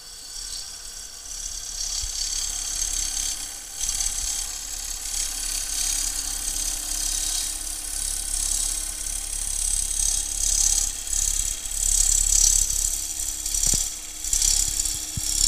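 An ambrosia maple bowl turned on a wood lathe, a steady rattling whir of the spinning blank with a brighter scraping hiss from the cutting tool rising and falling across the cut.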